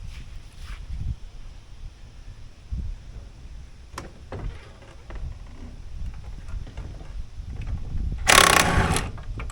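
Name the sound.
removing last nut from Polaris snowmobile motor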